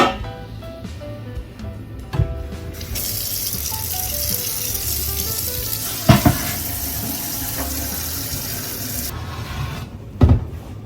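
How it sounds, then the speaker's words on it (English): Applesauce cooking down in a pot on a stovetop while a spoon stirs it, giving a steady bubbling, sizzling hiss with a few sharp scrapes and knocks against the pan; no one speaks. "Cooking it down. And give it a little stir."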